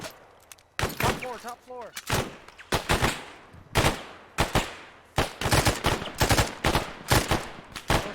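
Gunfire rings out in the military shooter Arma 3: loud, sharp shots in repeated bursts and single cracks over about eight seconds, heard near. A voice speaks briefly between the shots.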